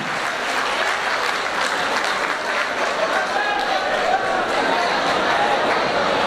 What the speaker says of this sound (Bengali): ওর জন্য একটা হাততালি হবে